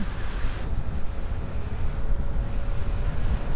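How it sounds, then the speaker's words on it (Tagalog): Steady, heavy wind roars and buffets the microphone throughout while riding a Yamaha Nmax V2 scooter on the road, a dense low rumble with no break and no voices. "Grabe, ang lakas ng hangin."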